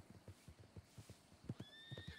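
A horse in Red Dead Redemption 2 whinnies in a high, wavering call over a steady run of hoof clip-clops, the footfalls continuing rhythmically throughout.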